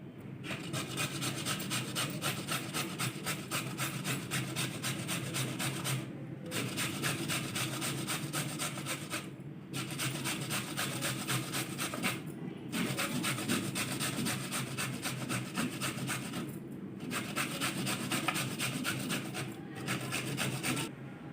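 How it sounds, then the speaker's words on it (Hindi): Bottle gourd (lauki) scraped against a kitchen grater in long rhythmic rasping bursts, close and loud, separated by short regular pauses between batches of strokes, with no talking. "अब हम कद्दूकस करेंगे।"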